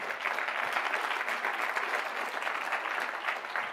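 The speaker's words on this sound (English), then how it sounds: "Give a round of applause for Carrie." Steady applause from a trade-show audience at a gadget competition, many hands clapping in a dense, even wash that neither builds nor fades over a few seconds.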